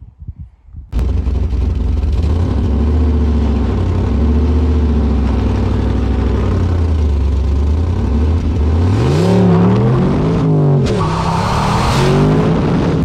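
A car engine revs and accelerates loudly and up close, holding a steady drone before climbing and dropping in pitch through several gear-like surges, with a brief tyre skid and no voices.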